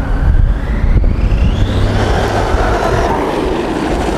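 A DHK Maximus 8382 electric RC car, said to reach 80 km/h, races very fast with a loud, continuous rushing roar and a motor whine that climbs in pitch.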